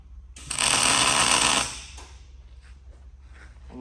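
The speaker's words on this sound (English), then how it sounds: "I'm going to go ahead and weld." A short welding burst on metal: a loud, dense crackling hiss starts abruptly and holds for just over a second, then cuts off, leaving a low background hum and a few faint noises.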